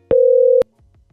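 A single steady telephone tone of about half a second, clean and loud, sounds during a Zoiper VoIP softphone call, followed by faint low murmuring.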